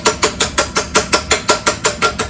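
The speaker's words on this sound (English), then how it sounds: "One way that I'll do a lot of metal forming is just with a ball peen hammer" Ball peen hammer striking sheet metal clamped in open vice jaws while forming a floor pan for a 1970 Dodge Charger: a steady run of about eleven loud, evenly spaced metallic blows, close and alone.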